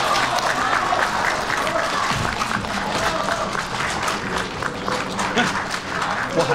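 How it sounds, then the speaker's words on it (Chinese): An audience applauds steadily through the whole stretch at a televised variety show's stage performance, dense clapping with crowd noise mixed in. "掌声送上"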